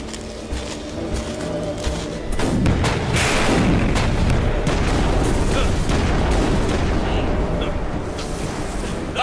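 Cartoon gunfire and artillery firing in a Hindi-dubbed animated battle against Martian villains, a loud rolling barrage of booms and thuds that swells and stays dense to the end.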